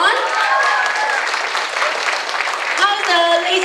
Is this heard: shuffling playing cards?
no